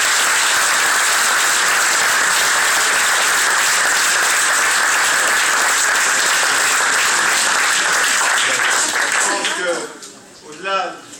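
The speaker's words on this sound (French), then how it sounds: "Je pense qu'on peut les applaudir." A crowd applauds steadily, thick and close, for elected officials at a victory gathering, the clapping holding for about nine seconds before fading as a speaker's voice returns.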